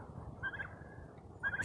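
Baby turkeys give two short clusters of high peeping calls, about a second apart, over faint low background noise.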